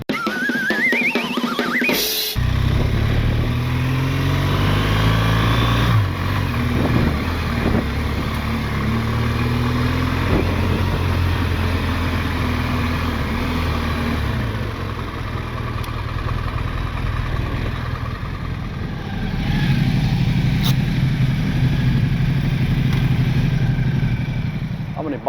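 Motorcycle engines idle and rev nearby at a busy bike meet, a loud continuous rumble with varying throttle blips throughout and some talk over it.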